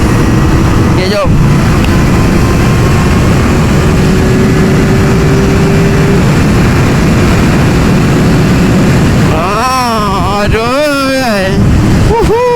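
A Kawasaki Ninja ZX-4R SE 400cc motorcycle rides on a highway, its engine a loud sustained drone under heavy wind rush, with rising and falling revs near the end as gears change.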